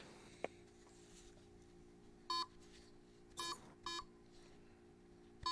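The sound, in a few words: electronic beeping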